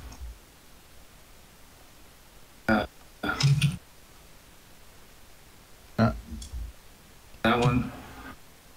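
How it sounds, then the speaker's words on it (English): A person burps during a casual gaming chat, a short throaty eructation standing out between bursts of nearby talk. "A burp."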